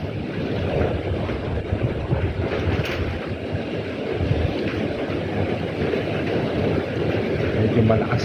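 Strong typhoon wind in Macau, at Typhoon Signal 8, roars without pause, buffeting the microphone in a dense, unbroken rush.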